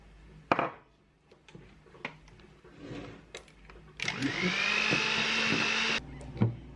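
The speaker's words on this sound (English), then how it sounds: "I'm going to add my flour, which has already been sifted." Electric mixer beating sifted flour into cake batter, with a few knocks and clatters first, then the motor whirring loudly for about two seconds before stopping, no talk.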